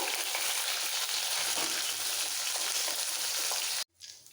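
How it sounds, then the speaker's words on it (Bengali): Small charapona fish fry crisp in hot oil with a loud, continuous crackling sizzle that runs unbroken for several seconds before cutting off suddenly, leaving a faint fizz. "ছোট চড়াশোনা মাছ একটু কড়া করে ভাজবো"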